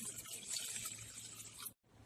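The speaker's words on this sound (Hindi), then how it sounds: "दही डालने के बाद हम इसमें पानी डाल देते हैं।" Water pours from a glass into a bowl of beaten yogurt while making a crispy chicken fry marinade, a steady close splashing stream that lasts most of the moment before stopping abruptly near the end, with no talk.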